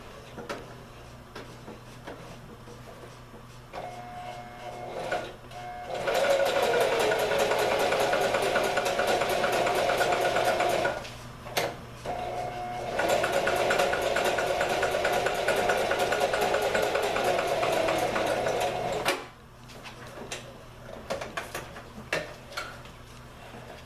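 A sewing machine stitches oilcloth tarp fabric in two long runs of steady, close mechanical whirring and rapid needle ticking, separated by a short pause, with quieter handling sounds before and after.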